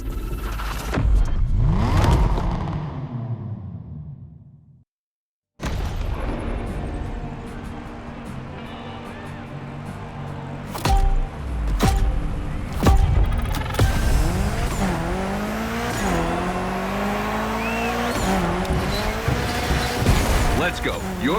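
A built Mitsubishi Evo 9 tearing through a gymkhana course in the racing game The Crew Motorfest, with revving engine, tire squeals and skids, a brief gap, then sustained hard driving under a talking voice.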